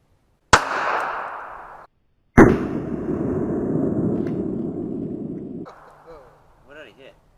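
.380 hollow point pistol shots fire into DIY ballistic gel, two sharp, loud reports each followed by a long decaying rumble, then brief talk at the end.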